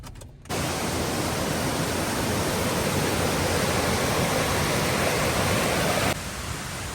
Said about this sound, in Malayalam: ചെറിയൊരു വെള്ളച്ചാട്ടം കേട്ടോ